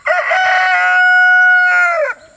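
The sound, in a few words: rooster crowing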